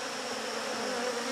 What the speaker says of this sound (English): See how many bees are on there working those babies.